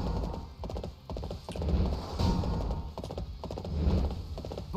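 Horse-drawn carriage of the Emperor in Dynasty Warriors 8, steady clip-clop of hooves with rolling wheels and occasional whinnies, continuous and fairly close throughout.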